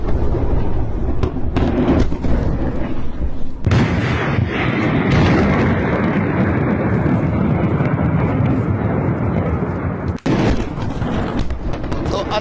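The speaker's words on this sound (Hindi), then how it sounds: "धमाके की आवाज भी लगातार वहां से सुनाई दे रही है।" Explosions from Israeli strikes on the port of Latakia in Syria roll on continuously as a loud, dense rumble with sharper blasts breaking through, heard from a distance with no speech.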